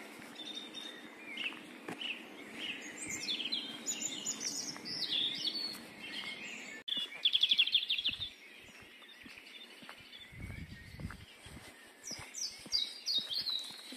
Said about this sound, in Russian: Тут другие птички.